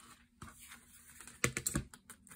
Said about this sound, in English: I'm just gonna take my knife and a ruler and just slice this open down here